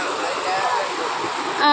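The Kurumali river in a Kerala village flows with a steady, full rushing wash of water that stays constant and fairly loud throughout, swelling slightly at the end.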